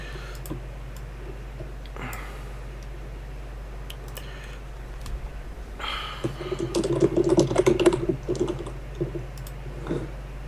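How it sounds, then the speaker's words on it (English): A computer keyboard is typed on during a competitive gaming finals match, with quiet clicks at first that build into a dense, rapid burst of keystrokes in the second half. "typing like an earthquake"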